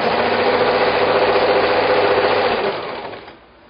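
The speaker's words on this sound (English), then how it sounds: "I'm finished sewing all of my strips together" Close, loud sewing machine stitching fabric strips together in a continuous chain, a steady fast whirring hum that slows and stops at the end.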